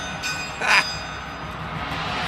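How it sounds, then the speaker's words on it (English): A bell struck by a drummer's mouth during a prog rock drum performance, giving one brief bright ring over the steady noise of a live concert. "First time I've seen somebody ring the bell with their mouth."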